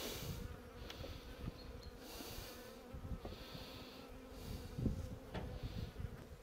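A queen honeybee buzzes in flight close by, its drone wavering and rising as it moves around.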